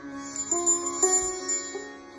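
A small hand bell rung during a Hindu temple ritual, struck a few times in quick succession, its bright metallic tones ringing and overlapping at close range with no speech.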